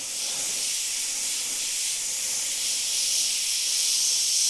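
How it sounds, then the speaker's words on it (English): An airbrush sprays light blue paint, white mixed with blue, onto a T-shirt with a continuous, even, close hiss and no pauses or other sounds. "Now using a light blue, so this is just white mixed with Trident blue. I'm going to use this to airbrush in the wave."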